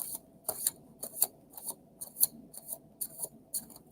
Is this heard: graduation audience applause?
no